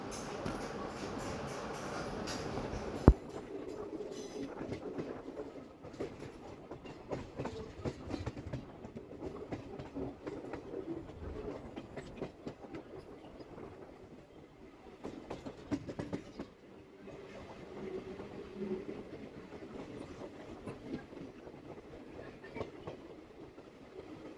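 A train rolls into Bugganapalli Cement Nagar railway station on the Guntur–Guntakal line, recorded from on board: steady wheel rumble with rhythmic clickety-clack, a sharp jolt early on, fairly quiet and continuous.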